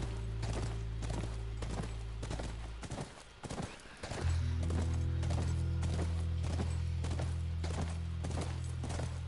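Horse hooves clip-clopping steadily while riding in The Last of Us video game, a regular trotting rhythm over a droning game soundtrack, with a brief rustling break partway through.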